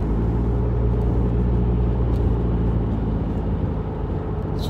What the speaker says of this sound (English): So this right now is the car at 1500 RPMs. I'm doing about 60 miles an hour down the highway.